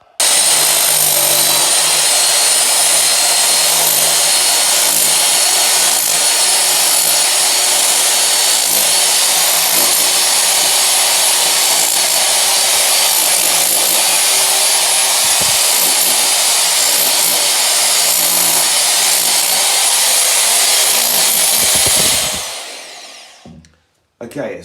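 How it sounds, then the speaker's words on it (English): An electric drill set to chisel mode hammers into a bedroom wall in a house under restoration, a loud, steady, close grinding roar running unbroken for over twenty seconds before cutting out abruptly. "I've set it to chisel mode and going to have a go at starting the wall"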